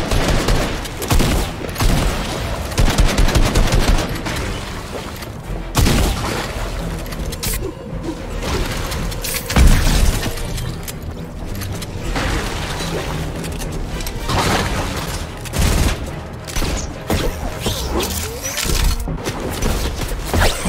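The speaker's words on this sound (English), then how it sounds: "Why is that team shooting me?" Dense, loud gunfire rattles almost continuously in a solo-versus-squads battle royale match, with heavy booming shots and crashing impacts stacked close together throughout.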